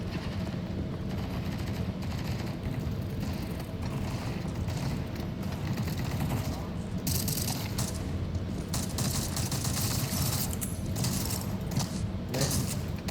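Gunfire from a gun in a video game rattles in a dense, continuous stream of rapid shots. The volume stays fairly steady and there is no speech.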